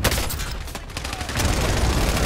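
Gunfire in the Call of Duty Warzone video game, a dense, continuous burst of rapid shots and crackling impacts, loud and close throughout with no clear gaps.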